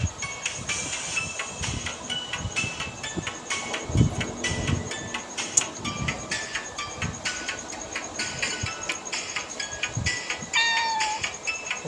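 Several house cats meow repeatedly at close range during a home meal, with short tonal calls scattered across the clip over faint background clatter and ambient noise.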